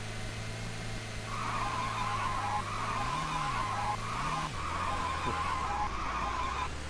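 A race car in the video game Car Constructor, rated at 150 horsepower, makes a steady synthetic engine drone with two quick revving swells, a drop in pitch and a faint high tone over it, loud and continuous without talk.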